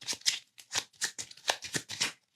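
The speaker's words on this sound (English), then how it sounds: "So then I'm going to just shuffle all of this." A deck of Star Wars Destiny cards is shuffled during a solo tabletop game, giving a run of about ten quick, crisp riffling bursts in an irregular rhythm, close and fairly quiet, with no talking.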